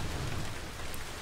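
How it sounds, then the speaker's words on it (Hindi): Heavy rain in Call of Duty: Modern Warfare 3, a dense, steady hiss of rainfall with no breaks and no voices. "बहुत बारिश हो रहा है यहाँ पर।"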